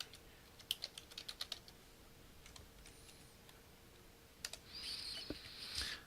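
Fingers type on a computer keyboard, a quick run of soft, close key clicks followed by a few more scattered taps in a quiet room.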